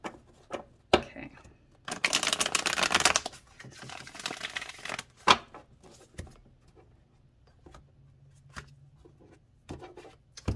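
Tarot cards being shuffled by hand in quick bursts of papery riffling and crinkling, a long dense flurry in the middle with softer taps and shuffles around it, close and fairly quiet.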